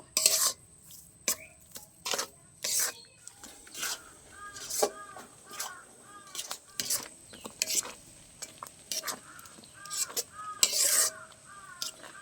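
A spoon stirs and scrapes in a pot of powdered-milk mixture for palm-fruit kheer, giving irregular clinks and knocks at close range, with faint bird chirps in the background.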